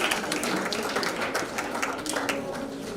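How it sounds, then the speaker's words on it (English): Scattered clapping from a school parents' meeting audience, a soft, even patter of many hands running steadily throughout at moderate distance. "Let's clap that parent"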